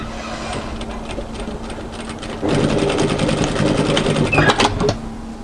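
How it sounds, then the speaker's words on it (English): Sewing machine stitches a strap onto the seam line of an off-shoulder raglan swing sweater, running steadily at close range, then growing louder and faster midway with a rapid mechanical whir and clatter. "I'm going to stitch that onto that seam line."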